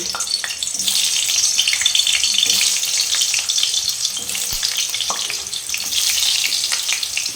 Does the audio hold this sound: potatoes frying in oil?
yes